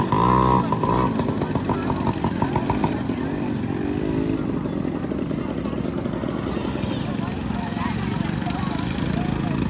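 A modified Royal Enfield Bullet motorcycle runs at a beach, its steady thumping engine loud and close throughout, with voices talking over it.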